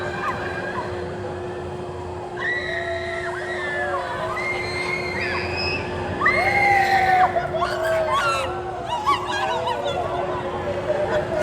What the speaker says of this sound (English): I feel like the screams are probably one of the best parts of the theme park.